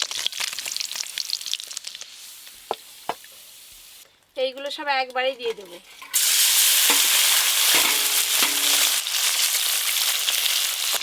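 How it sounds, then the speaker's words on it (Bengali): Small river fish fry in hot oil in a home kitchen with a loud, continuous sizzle. It starts after stirring and clattering sounds, and someone speaks and hums along with it. "যা মাছ আছে এখনো একবার ভাজতে হবে"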